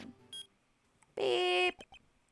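A single short synthetic beep from Phoenix Wright: Ace Attorney, a video game, sounds clearly and alone amid faint text blips, bright and tonal, lasting about half a second.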